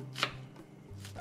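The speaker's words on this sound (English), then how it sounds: "This one I'm just going to cut it up very, very small." A knife chops an onion very finely on a board, giving a sharp cut near the start, a quieter stretch, then a second burst of chopping, close and fairly soft, with no voices.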